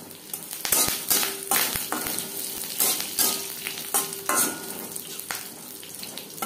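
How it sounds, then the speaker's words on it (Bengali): Curry leaves hit hot oil in a pan after the gas flame is turned off and sputter with loud, bursty sizzling and crackling, mixed with stirring scrapes and occasional clinks. "দিয়ে দেবো কারি পাতা"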